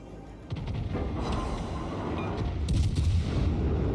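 Heavy naval guns of the cruiser Hindenburg fire in the World of Warships game, a dense rolling rumble of booms with low thuds that swells slightly and holds steady throughout.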